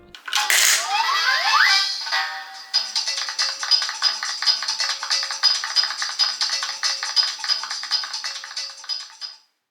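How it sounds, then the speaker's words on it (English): A vintage Animal Crossing toy coin bank plays a bright chiming deposit sound effect, followed by a lively electronic jingle that runs for several seconds with a steady rhythmic pulse, loud and close. "As you deposit coins, you get a sound effect that you would whenever you deposit bells in the game"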